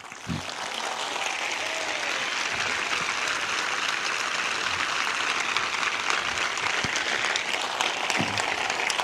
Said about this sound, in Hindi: Come on, give a good clap for our Lord Jesus Christ.